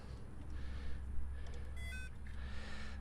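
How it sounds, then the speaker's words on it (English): A multimeter gives a short, faint electronic beep when its leads are hooked to the battery of a 1970 Chevy C10 pickup. A low steady hum runs underneath. "I got a beep"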